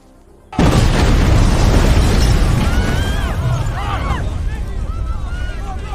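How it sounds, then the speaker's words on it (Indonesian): A sudden, loud explosion inside a house bursts out and then rolls on as a sustained roaring rumble, with faint whistling tones rising and falling within it. "ledakan yang terjadi di dalam rumah itu"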